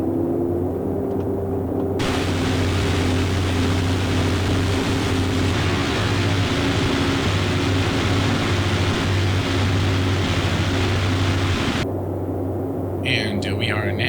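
Boeing 247D twin-engine propeller airliner climbing after takeoff in Microsoft Flight Simulator 2020, a loud continuous engine drone with a deep throbbing hum and a broad rushing roar across the middle.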